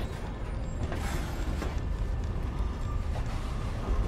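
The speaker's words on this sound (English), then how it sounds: "Doors shouldn't open on their own." A door creaking and grinding open by itself in Lost Planet: Extreme Condition, a low mechanical scraping rumble with faint creaks, steady and moderately quiet throughout.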